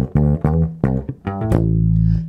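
Close, punchy slap bass playing a funk riff with two pulled slap notes: several crisp struck attacks in quick succession, then a longer low note that rings on and slowly decays, with no voices.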